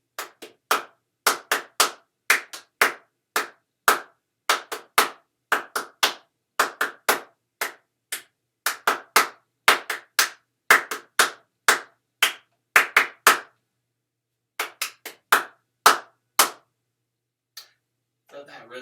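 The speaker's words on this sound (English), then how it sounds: "we can mostly clap it and kind of recognize the tune when we play it" Sharp, close hand claps tapping out the galloping rhythm of the William Tell Overture, quick groups of short claps in a steady pattern with brief pauses between phrases, alone in a quiet room.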